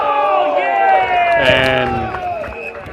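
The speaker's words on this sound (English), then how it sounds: "a crowd calling for the free kick that the umpire has given" Spectators at a country football match in the NCFL, Nullawil versus Birchip-Watchem, yell and call out together for a free kick. The loud, sustained crowd shouting swells briefly, with voices talking over it.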